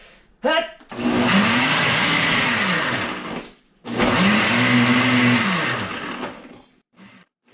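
A powerful countertop blender with suction-cup feet roars loudly while making a smoothie, running in two long bursts of several seconds each, with its motor pitch rising and dropping as it spins up and slows down.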